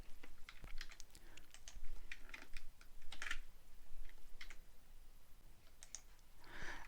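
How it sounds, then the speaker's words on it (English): A computer keyboard Shift key press and mouse right-click while building a dungeon map in MakeTile software: scattered crisp, close taps and clicks in an irregular rhythm, with no voices. "just do that by pressing Shift and right click"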